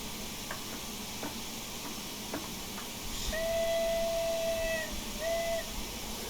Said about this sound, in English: Okay, so the whistle plays a tune.